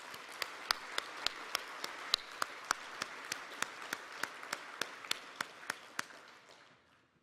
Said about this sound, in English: Let's all give Brent a big round of applause.